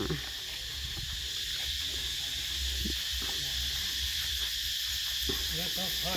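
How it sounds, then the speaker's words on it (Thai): Loud, continuous high-pitched cicada buzzing fills the air at a temple, a dense shrill drone with intermittent voices underneath. "โอ้เสียงจักจั่นเลไล"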